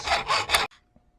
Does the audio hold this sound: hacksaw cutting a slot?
yes